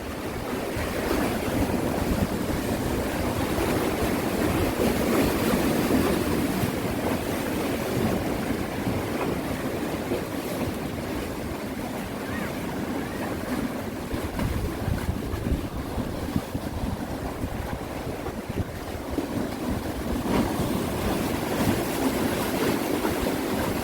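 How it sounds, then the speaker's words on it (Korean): High sea waves crash and splash against the coast near Gangneung in rough weather, a steady loud roar of surf with wind noise across the whole stretch and no talking. "파도가 부딪히면 물이 많이 튀어 오릅니다"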